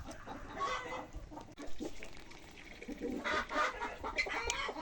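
Several chickens cluck and murmur close by in a farmyard at midday, a loose, continuous chatter with occasional louder squawks.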